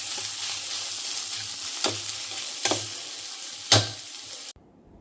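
Bitter gourd bhujia sizzles steadily in a little oil over a low gas flame, with a few sharp scrapes and clanks of the stirring spoon against the pan.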